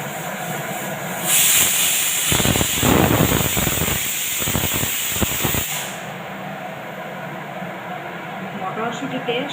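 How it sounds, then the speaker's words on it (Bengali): Spiced peas simmering in oil and water for ghugni give off a loud, steady hiss with sizzling bursts that swell in the middle and then settle into a softer bubbling. "মটরশুঁটিতে সব মশলা মাখিয়ে তেলের মধ্যে ছেড়ে জল দিয়ে সেদ্ধ করছি"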